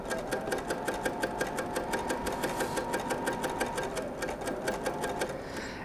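A sewing machine stitches small fabric pieces together in one steady, rapid run of needle strokes, close and even throughout with no pause.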